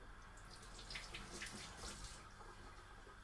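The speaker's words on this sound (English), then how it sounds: "Your chilies, just make sure you give them a bit of a rinse." Chilies are rinsed under a running kitchen tap, a soft, steady hiss of flowing water splashing into a sink, faint and continuous with no talk.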